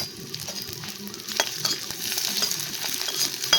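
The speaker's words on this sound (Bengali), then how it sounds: "পেঁয়াজটা ভালো করে একটু নাড়াচাড়া করে লাল লাল করে ভেজে নিতে হবে" Two chopped onions sizzle steadily in hot oil in a pan. Stirring with a spoon adds soft, repeated scraping, and the frying swells slightly louder partway through.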